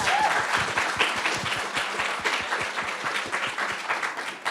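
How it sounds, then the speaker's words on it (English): A debate-event audience at Cazenovia College claps steadily for several seconds, dense overlapping hand claps forming a continuous, moderately loud round of applause with no speech over it. "I think we should clap for the audience."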